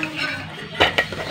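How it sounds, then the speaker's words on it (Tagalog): Eggs being beaten in a bowl for an ube jelly leche flan: a few quick whisking clinks and scrapes of utensil on the bowl, close and fairly crisp, coming in short irregular strokes. "At itong itlog, batihin natin."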